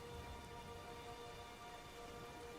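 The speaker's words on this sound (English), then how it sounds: "For the rain and thunderclaps, the rain is pretty silent on this" Steady, faint rain hiss from a video game's weather effects, a continuous even wash of noise with no distinct thunderclap standing out.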